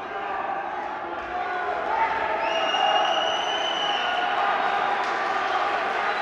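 A judo arena crowd at the European U23 Championships in Samokov, Bulgaria, swells into steady cheering and roaring that holds throughout, with a few whistles rising above the noise.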